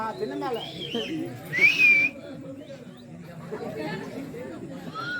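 A sharp rising whistle at a Tamil koothu street-theatre performance, brief and clear above a noisy crowd of chatter and voices.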